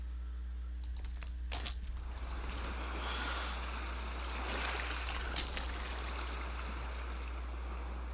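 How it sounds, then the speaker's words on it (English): Ocean waves in the game Dark Fall 2 make a steady, broad wash of surf that rolls on without a break, with a low constant hum beneath and no voices. "At least the waves are still here."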